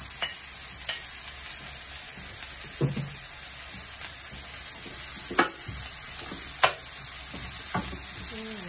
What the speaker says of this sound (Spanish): Las voy a poner aquí para que se doren junto con la cebolla